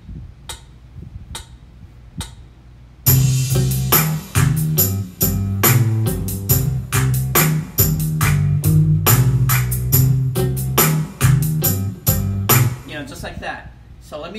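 A Korg PA1000 arranger keyboard plays a full minor variation of a style. A few soft ticks lead into a punchy rhythmic groove of bass, chords and percussion hits, close and loud, fading at the end.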